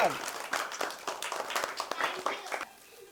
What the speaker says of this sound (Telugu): అంతా నీకే క్లాప్స్ కొట్టండి రా